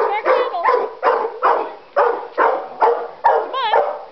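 A female dog on a leash barks repeatedly at a kennel, loud, close bursts in a steady rhythm of about two per second, with a few whiny yips mixed in.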